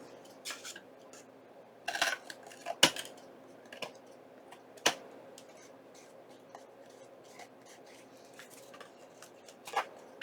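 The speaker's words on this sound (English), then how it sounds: "And then I'm just going to trim it." Scissors trim paper for a junk journal cover, a few short crisp snips and rustles spread out over a quiet background, close by with no talk.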